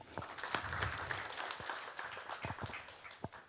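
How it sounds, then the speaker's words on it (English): Thin, scattered clapping from a small audience at an Earth Hour launch symposium greeting the managing director, individual hand claps popping irregularly over a quiet room murmur, fairly faint and uneven. "a round of applause to the MD"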